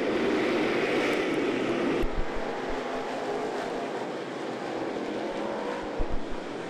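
Late model race cars roar down the back straightaway of a raceway, a dense, continuous engine drone that stays loud throughout, with a slight shift in tone partway through.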